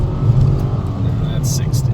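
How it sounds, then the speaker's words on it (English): A Ford Taurus SHO launching hard from a stop toward 60 mph on a straightaway, its engine a steady, loud low roar from inside the cabin with a couple of brief higher hissing bursts near the end. "We'll do a quick 0 to 60 on this straight away"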